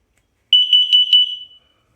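A smoke detector being tested gives one second-long burst of shrill, rapidly pulsing beeps, loud and close, then falls silent.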